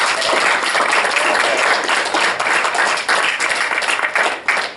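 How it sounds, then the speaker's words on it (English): An audience at a press freedom day event gives a steady round of applause, continuous dense clapping at moderate loudness throughout. "a round of applause"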